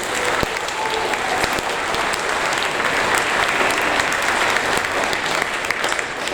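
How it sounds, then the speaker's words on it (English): A school audience at a sixth grade awards ceremony gives a continuous round of applause, many hands clapping loudly and evenly with a few sharper individual claps standing out. "let's give her a round of applause."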